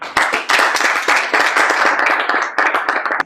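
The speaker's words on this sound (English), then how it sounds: "Please, a round of applause for Mr." An audience claps for a speaker being introduced at a job platform launch press briefing, a loud close burst of many hands in uneven bursts that runs through the clip with brief dips.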